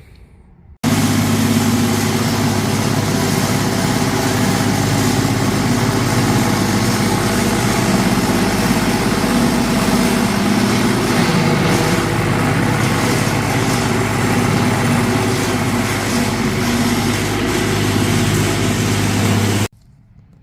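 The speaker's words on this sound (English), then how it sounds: "that machine makes all the dust fall from the backing of the carpet all the way down to the concrete floor" A rug dusting machine shakes dust from a wool rug over metal grates on a concrete shop floor, giving a loud, steady mechanical drone that runs without a break for nearly the whole stretch.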